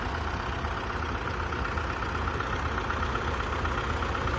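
YuMZ and MTZ tractors idling together, a steady, dense diesel rumble with faint knocking texture, continuous and unchanging at moderate distance, no voices over it.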